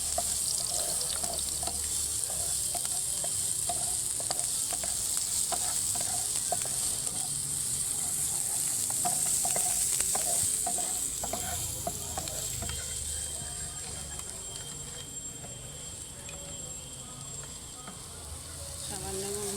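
Garlic sizzling in olive oil in a pan for pizza sauce, a continuous bright crackle with scraping stirring strokes repeating throughout, close up, with voices talking intermittently.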